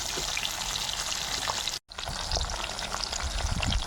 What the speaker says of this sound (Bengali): এই মাছগুলো ভাজা হয়ে গেছে, তুলে নেবো। আর বাকিগুলো আবার ভাজতে দেবো।